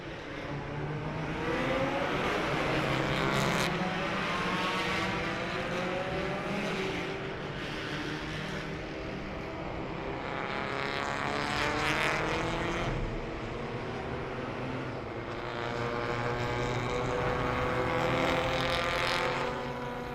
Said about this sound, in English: enjoy the sights and sounds of these race cars as they take to the track